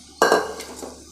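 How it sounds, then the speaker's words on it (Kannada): A metal pressure cooker is set down on a stove with a sharp clanking knock, followed by a short ringing rattle of cookware in a quiet kitchen. "ಕುಕ್ಕರ್ ಇಡ್ತಾ ಇದ್ದೆ."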